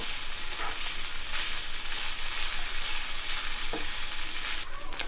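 Soaked poha being stirred into a pan with fried peanuts, a steady close sizzle and hiss with a few soft scraping knocks of the spoon.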